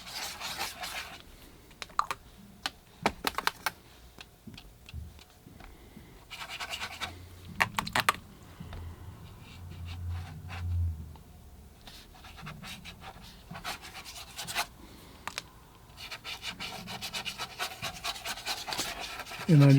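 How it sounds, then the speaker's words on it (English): Paintbrush scrubbing a watercolor wash on paper, soft intermittent scratchy rubbing strokes, close and quiet, with brief louder brushing bursts. "I just scrub around a little bit of wash on the paper"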